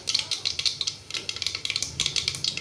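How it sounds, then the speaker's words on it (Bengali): Mustard seeds crackle and pop in hot oil, a rapid, irregular patter of sharp little clicks over a low sizzle. "এখানে সর্ষেটা কি হচ্ছে, ফুটছে"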